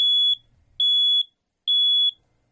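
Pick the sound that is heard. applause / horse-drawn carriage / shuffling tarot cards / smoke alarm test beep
smoke alarm test beep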